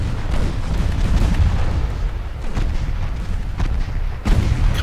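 Heavy naval guns from Ultimate Admiral Dreadnoughts firing armor-piercing shells, deep booming salvos rumbling in a continuous low barrage with a sharper blast near the end.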